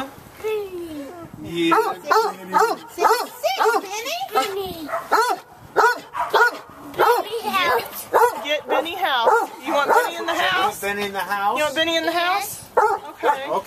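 A pet dog barks and yips in short bursts inside a house, close and fairly loud, with a man and child chatting over and between the barks.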